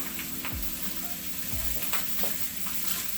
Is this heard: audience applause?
no